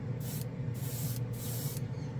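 Green Stuff World black chrome spray paint hissing from an aerosol can in three close, steady bursts of roughly half a second each, separated by brief pauses.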